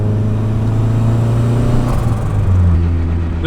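A Nissan Z32 fitted with a turbo revs hard, a loud close engine note climbing and falling with a rising spool whine swelling over the roar.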